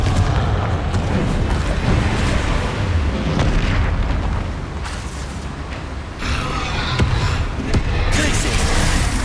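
Repeated fiery spell blasts from the Confringo curse in Hogwarts Legacy, booming bursts over a dense, continuous layer of combat effects and music, loud and close with no pause.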